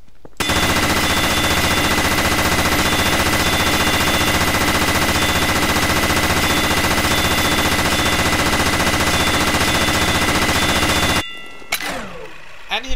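A minigun in the video game Garry's Mod fires one continuous, loud, roaring burst for about eleven seconds, then cuts off abruptly and is followed by a brief rattling tail.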